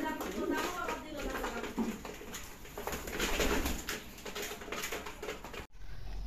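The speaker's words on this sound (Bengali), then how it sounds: "ওই যে টাইগারটা অনেক বড় ডাকাডাকি করে ডিম করার জন্য এই করতেছে" Pigeons kept in a home loft coo and call, including a large male pigeon calling while preparing to breed, with steady bird sounds throughout and faint voices and patter in the background.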